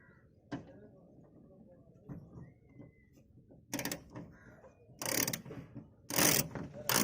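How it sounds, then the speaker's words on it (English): A ratchet wrench undoing bolts on the boot of a Maruti Suzuki Swift, faint clicks followed by several louder bursts of rapid ratcheting, close by in a quiet setting. "Remove these two bolts."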